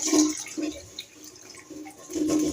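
Water splashes and trickles into a cooking pan of fish curry with sour yogurt in a couple of short pours, with quieter dripping between them.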